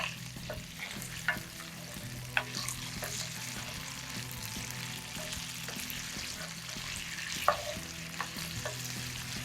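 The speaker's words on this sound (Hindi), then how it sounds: "उसके बावजूद आप देख लें कि ये कितने मज़े से जो है इसमें आलू फ्राई हो रहे हैं" Potatoes frying in an uncoated iron pan for aloo palak, with a steady low sizzle and a few sharp clicks of stirring, close and alone with no talk.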